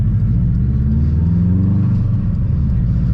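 Steady low rumble of a Subaru WRX rolling along with a continuous grinding drag from badly dragging brakes underneath, loud and close, no pauses throughout.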